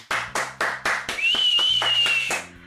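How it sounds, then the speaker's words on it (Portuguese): One person claps hands a few paces from a microphone: several sharp, evenly spaced claps with a ringing room echo, then a sustained high whistling tone layered over further claps, ending abruptly. "Vou aplaudir de longe, ó."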